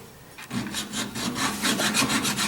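A VW Beetle part is ground down in a close, steady run of rhythmic rasping strokes that build in loudness and repeat in quick succession, with no voices.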